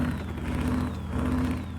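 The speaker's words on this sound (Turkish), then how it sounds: "Araçta böyle ince bir turbo sesi var." DAF truck with a thin turbo whine in a truck-driving video game, a steady engine drone with faint high whistling tones running over it, continuous and fairly loud with no talk.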